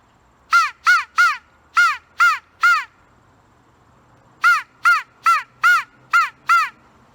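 A homemade crow call is blown in two bursts of loud, close caws, six in the first run and seven in the second, separated by a short quiet gap, with no talking.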